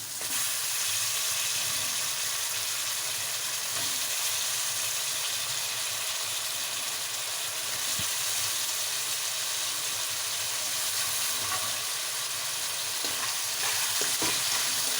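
Salted-water-soaked potato pieces frying with capsicum in a pan, a steady loud sizzle and hiss with scraping stir strokes throughout, no voices.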